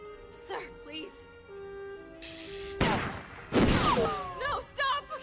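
Gunfire in an anime fight scene, sharp bursts of shots crackling amid dubbed dialogue, shouting and metallic ringing deflections, loud and close in quick clusters.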